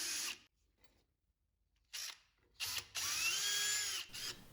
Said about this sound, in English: I chose to hand tighten it at the end, just to have full control of what I'm doing